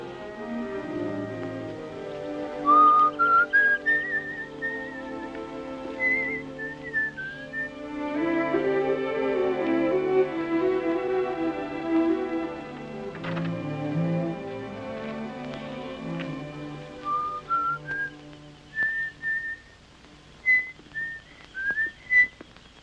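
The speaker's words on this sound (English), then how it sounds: "you wait here and whistle yourself a little tune till I come back" A man whistles a lilting tune alone, the melody rising and falling in clear phrases with brief pauses, over soft orchestral film music in an old musical.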